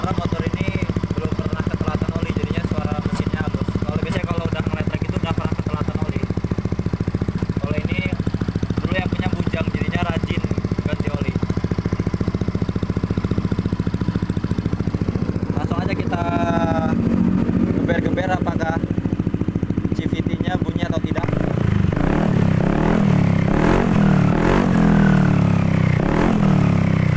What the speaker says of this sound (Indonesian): Kalau untuk suara mesin masih halus ya mas